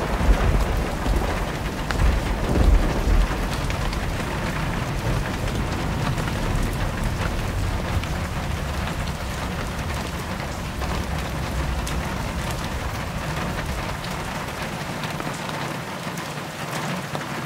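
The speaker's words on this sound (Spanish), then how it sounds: "Está lloviendo, está haciendo mucho frío" Heavy rain falls steadily on surfaces on a cold night, a dense, even hiss close by with no pauses and no voices.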